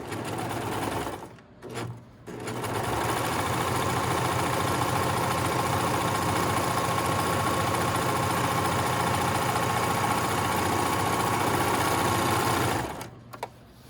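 A serger runs continuously for about ten seconds, sewing a narrow rolled edge on lightweight, sheer fabric, a fast, even mechanical whir and chatter heard up close after a couple of brief starts.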